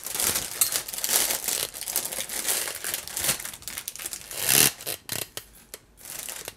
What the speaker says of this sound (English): Plastic sounds.